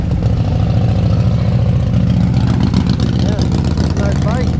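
A motorcycle engine idles nearby, a loud steady low rumble that holds throughout, with someone talking over it outdoors.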